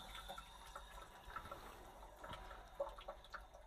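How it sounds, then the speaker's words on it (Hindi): Water trickles and splashes faintly into a toilet flush tank as it starts filling after the angle valve is opened, a quiet uneven dribble with small irregular drips and gurgles. "सप्लाई को यहाँ से मैं ऑन कर दिया और ऊपर देखिए यहाँ पे पानी भरना स्टार्ट हो गया है"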